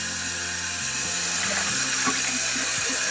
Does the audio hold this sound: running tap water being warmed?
yes